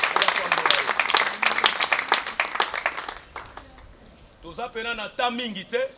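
Mourners at a funeral clap their hands in praise, dense rapid clapping mixed with voices for several seconds, then fading as singing voices rise near the end.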